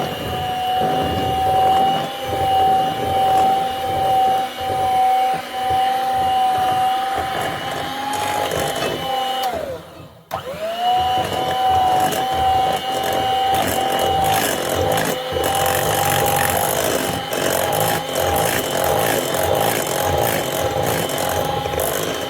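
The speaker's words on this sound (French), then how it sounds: "à présent nous allons pouvoir mélanger le tout. Donc si vous êtes courageuse, vous le faites à la main ou alors on va le faire au batteur électrique" An electric hand mixer whirs steadily as it blends the ingredients for dumplings in a mock carbonara, a continuous close motor whine with rattling beaters that stops briefly around the middle and then starts again, with no talking.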